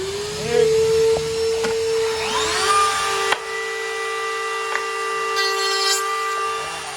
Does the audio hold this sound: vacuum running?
yes